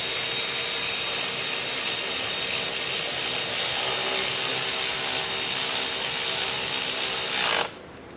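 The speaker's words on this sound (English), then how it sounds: "then we'll go at it with the power tool" Continuous whirring drone of a power tool running bolts tight on a Volvo XC60 alternator, loud and steady for several seconds before cutting off abruptly near the end.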